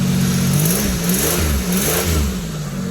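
Close, loud engine of a 1988 Buick Reatta idling with a few smooth revs rising and falling over a steady hum, no voices.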